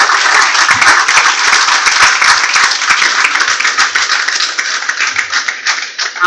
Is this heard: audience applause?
yes